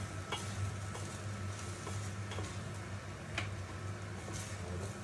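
A spoon stirs minced meat and green beans in a pan, giving faint scrapes and light ticks at irregular intervals over a soft sizzle and a low steady hum.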